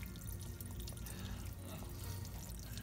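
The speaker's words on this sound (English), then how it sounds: "Now I'm gonna let that water run out." Water drains from a cut house water line in a mobile home during a hose bib installation, a faint continuous trickle and splash heard alone.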